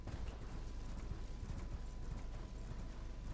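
Horse hooves clip-clop in a quick, steady galloping rhythm while riding a horse in the video game Elden Ring, faint and continuous with no talk.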